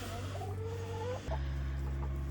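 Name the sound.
chickens clucking in a coop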